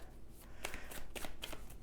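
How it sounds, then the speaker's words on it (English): Tarot cards are shuffled by hand in soft, close, rhythmic flicks and slides, a brief quiet series of papery shuffling strokes. "I don't just shuffle, cut the cards, and then pull the cards off the top or the bottom"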